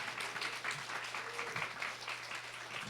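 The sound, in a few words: applause welcoming the professor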